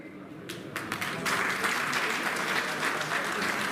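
Audience applause at a rally of sanitation workers' unions backing contract electricity workers in Delhi. It starts as a few scattered claps, then swells into steady, fairly distant clapping from a crowd, with faint voices underneath.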